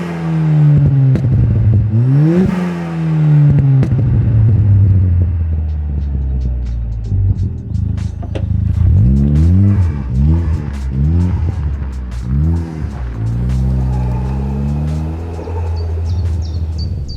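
A hybrid-turbo 300 bhp Ford Fiesta ST engine revs hard through repeated gear changes on the road, rising and dropping in pitch with a loud, throaty roar and occasional tire noise, no talking.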